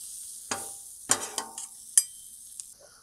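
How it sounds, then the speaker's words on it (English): Onions being stirred on a hot griddle for kielbasa and pierogies, a faint steady sizzle broken by several sharp scraping clicks of the spatula. "Just give these onions one more stir."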